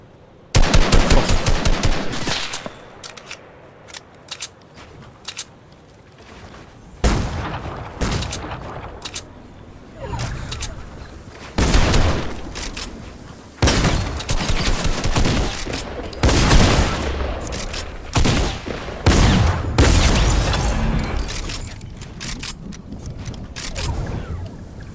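In a Fortnite-style arena battle royale match, video game gunfire comes in repeated loud bursts of rapid shots and single cracks, with sporadic automatic fire and brief lulls between exchanges.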